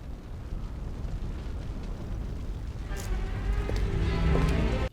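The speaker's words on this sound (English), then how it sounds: "Explosion." A movie explosion from American Psycho erupts as a heavy rumbling blast, building into a louder, crackling burst toward the end, with brief talk underneath.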